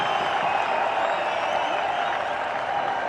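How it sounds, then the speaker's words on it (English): Cricket crowd at a Pakistan vs New Zealand one-day international cheering and applauding a six, a loud, dense, sustained roar of clapping and shouting that holds steady throughout. "Crowds are jubilant."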